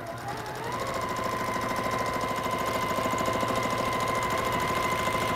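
A sewing machine runs steadily through free-motion quilting, stitching loose looping patterns across a quilt, with a rapid, even needle chatter and a constant motor hum that starts softly and then holds at a moderate, close-up level with no talking.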